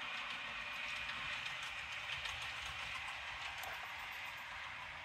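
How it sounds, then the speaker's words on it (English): A model railway train runs along a layout toward its station, a faint, steady mechanical hum with light continuous rattling and no voices. "the train should move off, which it's doing."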